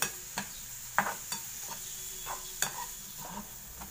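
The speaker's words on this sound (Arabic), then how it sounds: "الزبيب طبعا انا بحطه الاول في الزيت مع الحاجات دي عشان يفشل كده في الزيت ويكبر شويه" Raisins and onions frying in hot oil in a pan, a steady soft sizzle broken by several sharp scraping clicks of a spoon stirring, close and fairly quiet, with no voices.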